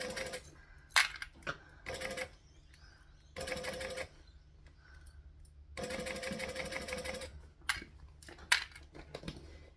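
A sewing machine running slowly in separate bursts of stitching, several short and longer runs of close mechanical whirring broken by quiet pauses and a few sharp metallic clicks.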